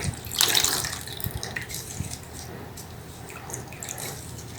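Water splashes and trickles softly as a newborn is rinsed in a bath, with a brief stronger pour at the start fading into quiet, steady dripping and sloshing.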